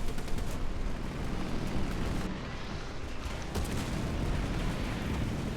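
Tank gun fire in War Thunder: heavy, dense low booms and rumbling battle noise run throughout, with a sharper blast near the middle and steady combat din filling the whole stretch.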